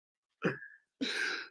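A single person sneezing close and loud, a sharp intake with a squeaky tail followed by a longer burst of forceful exhalation.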